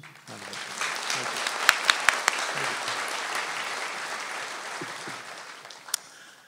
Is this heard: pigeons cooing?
no